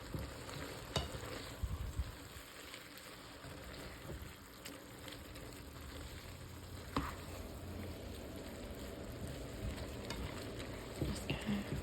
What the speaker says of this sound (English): Just kind of stir that in there and let it cook a little bit.